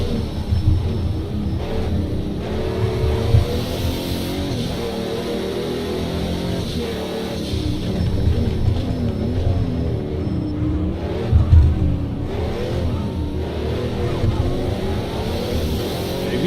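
A car engine in a racing video game revs and drives hard, rising and falling through the gears with steady, loud mid-range growl and brief bursts of acceleration.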